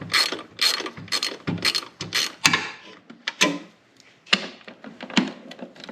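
Ratchet wrench backing out 10mm bolts on top of a car headlight during an LED headlight install, a series of quick clicking bursts up close with brief gaps between them.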